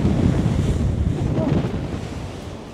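Strong wind buffets a luxury yacht at sea off Dubai, roaring across the microphone in a loud, gusting rumble with water noise beneath it, fading slightly toward the end.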